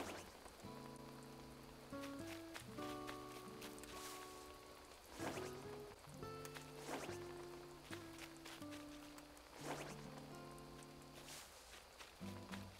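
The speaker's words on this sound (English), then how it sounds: "I like the rain, listen. You can hear it on that brolly." Steady rain patters on an umbrella in the video game Animal Crossing: New Horizons, a continuous soft hiss running the whole time beneath sustained game music tones.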